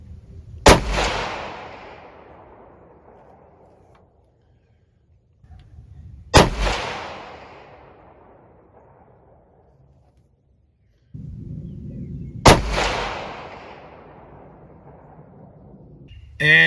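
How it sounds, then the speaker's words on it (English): Three rifle shots on a range, each a sharp, loud crack followed by a long decaying echo, spaced about six seconds apart, with quiet background between them. "And we'll fire 3 rounds."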